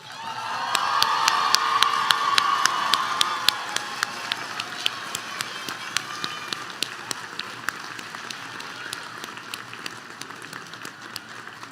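Audience applause at a nursing graduation and pinning ceremony: dense clapping from a large crowd, strongest in the first few seconds, then thinning into scattered claps that continue steadily to the end.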